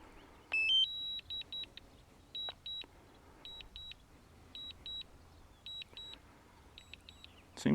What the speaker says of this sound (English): this beeping seems to be a lot less annoying than the previous drones I've owned